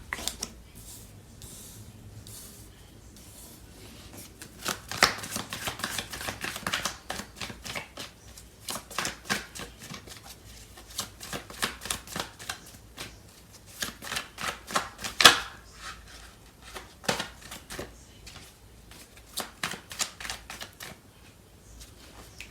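Tarot cards are shuffled close by in repeated bursts of rapid riffling and slapping, with short pauses between runs and a louder burst near the middle, no voice over it.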